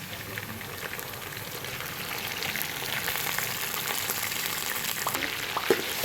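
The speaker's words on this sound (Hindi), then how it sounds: "फ्राई कर लेते हैं। देखिए चिकन हमारा फ्राई हो गया" Chicken fries in a pot with cloves, star anise, cinnamon, cumin and black pepper, giving a continuous, moderately loud crackling sizzle that holds steady, with a couple of sharp clinks near the end.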